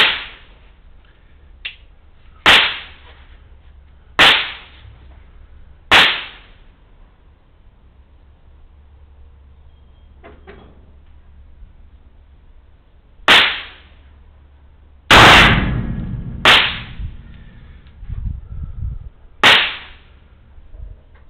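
Black powder shots from a Remington 1858 .44 revolver, an Uberti reproduction, fired in a five-shot series at a 25 m range: sharp, loud cracks at irregular intervals, each ringing out in a short echoing tail.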